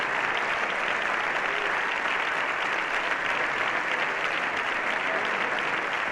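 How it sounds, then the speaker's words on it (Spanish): A dense, steady roar of applause fills the Spanish Congress chamber and continues evenly from start to finish, with no voices rising above it. "Por el aplauso."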